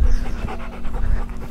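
A dog pants steadily and close by, rapid breathy huffs repeating for the whole moment with no talking over it.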